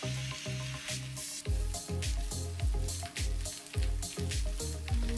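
Mushrooms sautéing in a pan on low heat, a soft continuous sizzle broken by a rhythmic series of stirring scrapes and squishes, close and fairly quiet.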